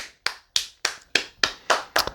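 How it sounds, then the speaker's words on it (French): Single pair of hands clapping in a steady rhythm, seven sharp, close claps roughly a quarter second apart, each ringing out briefly in a quiet room. "Quand je vais dire 3, toi et moi, on va applaudir en même temps, ok?"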